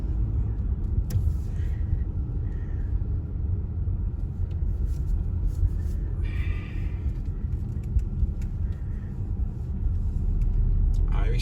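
Steady road traffic rumbling through a small town near a ferry port, cars and heavier vehicles passing close in a continuous low roar with occasional louder swells and a brief brake hiss.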